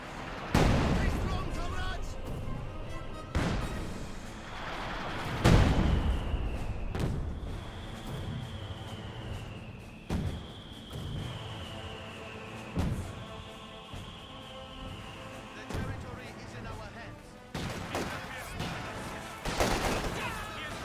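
Penal infantry rifles firing in a Company of Heroes 2 battle, heard as repeated sharp, loud gunshot bursts at irregular intervals over a busy combat backdrop, with a thin descending whistle drifting through the middle.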